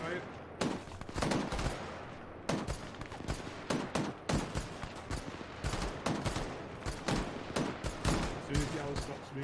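Rapid gunfire from infantry weapons in the military game ArmA, dense bursts of sharp cracks arriving in irregular clusters, some close and some further off, with voices talking faintly underneath.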